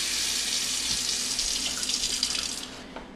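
Water runs from a kitchen faucet in a steady, hissing stream during a shut-off test under the sink. The flow stays close and even throughout with no talking.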